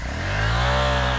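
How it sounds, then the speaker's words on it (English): A dirt bike engine revs hard as a first-time rider holds the throttle open, giving a short, steady, buzzing whine that climbs slightly in pitch. "You're just revving it."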